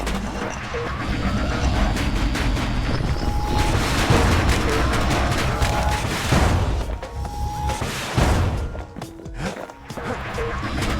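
Bastion's in-game cannon blasts out a string of booming, crashing shots, loud and near, layered over continuous game music for about eleven seconds, with a couple of sharper hits toward the end.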